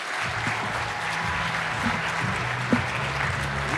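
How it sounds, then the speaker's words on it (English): Audience applause after a community keynote at a conference, a broad, steady clapping that swells quickly and carries on at an even level, with a few voices and a brief whoop rising above it. "one more big round of applause for all of our community members that did the keynote"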